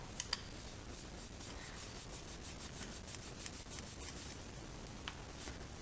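A rag rubbing a rubberized coating off a VW Golf Mk4 rear door handle, a soft steady scrubbing with quick repeated strokes and a couple of small clicks, faint and close, no talking.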